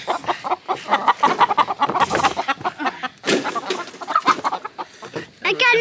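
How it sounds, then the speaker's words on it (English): Chickens in a farm coop clucking and squawking busily, close and loud, with a rooster-like call among the flock and some voices mixed in. "I got new chickens."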